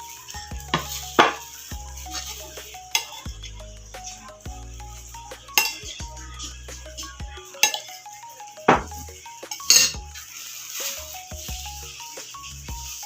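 Boiled egg being mixed into a salad in a bowl, with repeated clinks and knocks of a utensil against the bowl and soft stirring sounds in an irregular rhythm.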